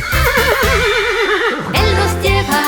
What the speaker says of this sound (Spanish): ¿saben qué animal hace? ¡El caballo!